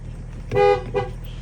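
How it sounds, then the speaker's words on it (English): Two short car horn honks from a BMW E53 X5 after a steering wheel change, a longer blast followed by a brief second toot over a faint idling engine. "Now let's see if the horn works."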